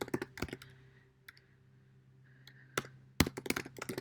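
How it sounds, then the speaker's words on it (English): Bursts of computer keyboard typing, quiet clicky keystrokes in short irregular clusters separated by near-silent pauses, close and alone. "So, to make the initial post, you would type a response."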